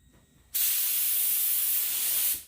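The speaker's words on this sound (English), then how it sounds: "Now I'm going to start shooting my base coat on." A spray gun set around 22 PSI shoots base coat paint onto a classic Mustang's rear bumper, one loud, close, continuous hiss lasting about two seconds and cutting off abruptly.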